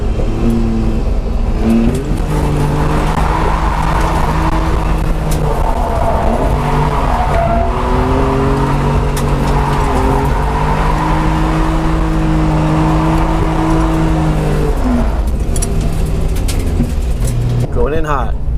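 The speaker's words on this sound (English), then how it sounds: "let's warm up these tires on this" A BMW E46 drift car warms its tires at a drift event, the engine revving up and down loudly and continuously with squealing tires, heard from close by under an in-car voice.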